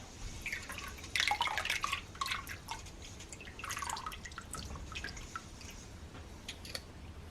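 Fermented pear juice with no added water dripping and trickling through a straining bag, a busy run of wet drips and splashes up close, with no talking.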